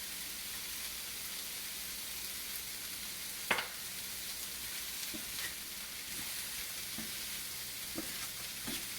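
Onions fry in a pan with a steady, even sizzle throughout, broken by a few soft scrapes of stirring and one sharper clink partway through; no voices.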